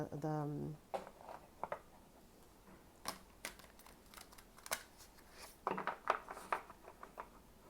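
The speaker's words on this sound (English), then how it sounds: "I feel like it needs one more shuffling before we draw the cards" Oracle cards are shuffled by hand, giving soft papery riffles and taps in short bursts. They are close and quiet, and a voice talks at the start.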